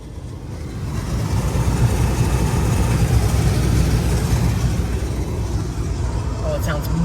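A Chevrolet Impala engine runs steadily just after a repair, giving a loud, continuous low rumble. Voices are heard over it.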